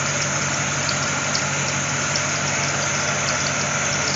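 A/C compressor on a classic car after an R12 to R134 conversion, running with a rough, loud steady hum and faint rapid ticking over the idling engine, close up.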